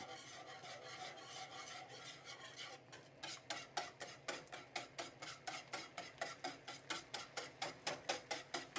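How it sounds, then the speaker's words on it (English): Sauce whisked in a pan for Swedish meatballs, first as a loose swirl, then as fast even scraping strokes repeating about twice a second, close and faint, with no talk. "Just whisk it like that."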